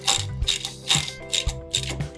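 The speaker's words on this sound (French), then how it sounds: "Alors maintenant, je vais serrer mes axes de tirant" Ratcheting mechanical clicks as tie-rod axle bolts are tightened on a Nissan Patrol Y60 axle during a suspension lift, with several close, loud bursts of rapid ratchet clicking separated by short pauses.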